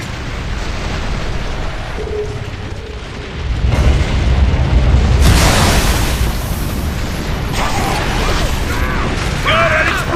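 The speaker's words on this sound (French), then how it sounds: "Regarde à l'explosion!" A large explosion in the video game Gears of War Judgment booms loudly and then rumbles on amid mechanical clatter and battle noise, with a brief tonal effect near the end.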